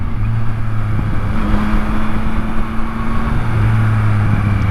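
A Yamaha MT-09 three-cylinder motorcycle engine running, a loud, close, continuous buzzing drone with shifting pitch and rough wind-blown texture, as if heard while riding, with no talking.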